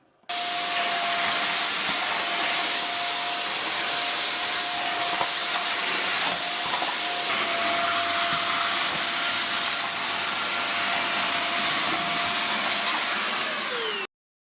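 A 600 W Silvercrest SHZK 600 A2 corded vacuum cleaner runs continuously, picking up dust with a loud, steady, close rushing whine that stops abruptly at the end.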